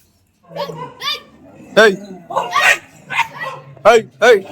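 A pack of five dogs ganging up on a single dog, with a rapid mix of sharp barks, yelps and whimpering cries in uneven bursts, fairly close and loud.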